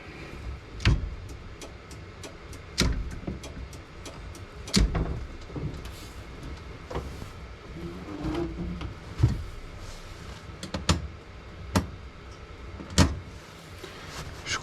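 A car's starter cranks without the engine catching: a low, labored churning broken by sharp periodic clunks and knocks at irregular intervals of one to two seconds. The attempt follows a Microsquirt fuel-injection setup. No voices.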